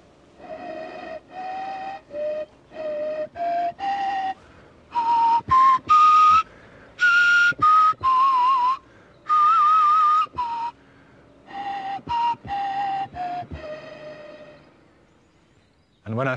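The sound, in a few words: reconstructed ancient mammoth ivory or bird bone flute playing tunes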